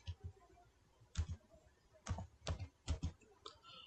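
Keys on a computer keyboard are tapped in a short irregular burst of about eight crisp clicks, close and fairly quiet, with no talking.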